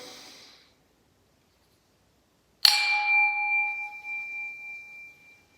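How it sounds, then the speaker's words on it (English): A single bell struck once in a chapel, a bright clear strike ringing out with a long sustained tone that slowly fades, after a soft breath out and a stretch of silence. "Hearing that bell ring as we breathe out."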